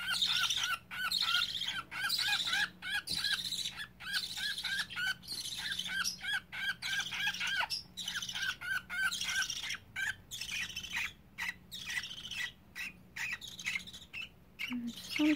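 Baby budgies scream and chirp almost nonstop, a dense run of shrill, squawking calls close by with brief pauses, no talking.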